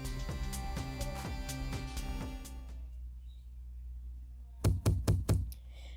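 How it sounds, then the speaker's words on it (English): Loud banging on a front door, heard as a rapid series of heavy knocks that pauses briefly before another quick burst of four or five thuds. "I wake up early the next morning to loud banging on my front door"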